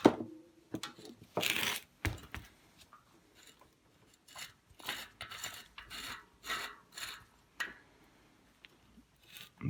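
Rasping, clicking metal-on-metal turns and scrapes from a Sturmey Archer bicycle hub being unscrewed during disassembly, a faulty freewheel that slips or won't engage, in short irregular bursts close by.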